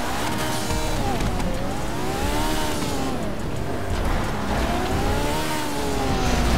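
Heavy car accelerating in GTA RP, a loud continuous engine roar whose pitch climbs and drops repeatedly as the gears shift, with a faint voice under it.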